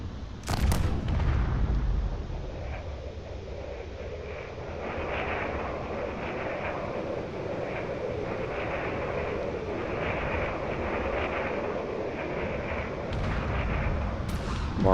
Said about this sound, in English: More cannon shells, and of course the fighters are targeting it as well.